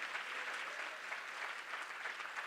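Audience applause for panelists and moderators at a food security conference, a steady wash of clapping from a seated crowd, heard faint and distant throughout the short clip.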